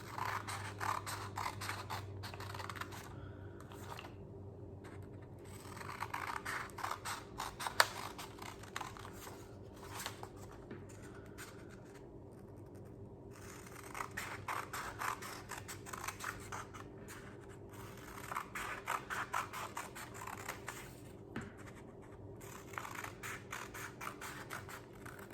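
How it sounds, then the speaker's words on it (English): Scissors snip repeatedly through paper for a paper weaving craft, a quiet run of crisp close cuts and scrapes with short pauses between bursts. "I'm just gonna take my scissors, I'm gonna cut, and I'm stopping before I get to the top."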